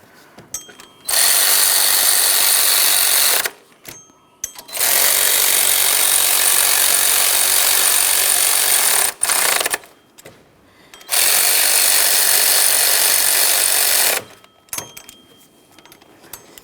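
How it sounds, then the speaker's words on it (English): Bursts of a power tool tightening bolts on the power steering pump of a 2007-2017 Jeep Patriot, three sustained loud whirring runs of a few seconds each, separated by short quiet pauses, with no talking. "let's snug them up, and I'm going to torque these to 19 foot-pounds"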